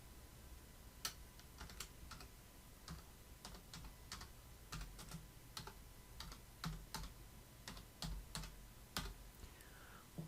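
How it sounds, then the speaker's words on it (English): Rapid keystrokes on a computer keyboard while entering a name into crochet pattern software, sharp close clicks in an uneven, steady rhythm over a faint background hum. "And I'm going to type in crochet stitches."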